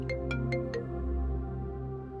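A mobile phone ringtone plays a bright electronic melody, four quick chiming notes over sustained tones, fairly loud and close.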